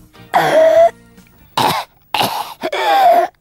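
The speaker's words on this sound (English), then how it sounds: "Ozzy's hair had grown over 6 inches since lunchtime, and he was coughing." A man coughs repeatedly and harshly, several loud bursts separated by short pauses, close to the listener.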